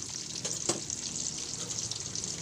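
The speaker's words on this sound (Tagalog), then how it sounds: "Baliktarin natin para pag nag golden brown siya ay hahanguin na natin." Tofu frying in a pan, a steady close sizzle of hot oil with a brief louder crackle as a piece is turned, no voices.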